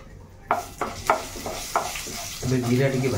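Cumin seeds hit hot oil in a pan for an Odia pumpkin-greens dish, giving several sharp crackling bursts that settle into a loud, steady sizzle close by.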